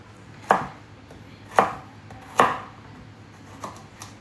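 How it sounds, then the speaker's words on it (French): A knife chops carrots on a board while a rice salad with tuna and eggs is prepared. Three crisp, close strokes land at uneven intervals, followed by two softer taps, with no talking. "je coupe mes petites carottes"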